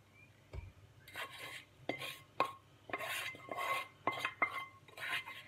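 Fried onions and short grain rice being stirred into cooked lentils for moujadara, giving a run of repeated soft scraping and clinking spoon strokes against the pot, fairly quiet and rhythmic.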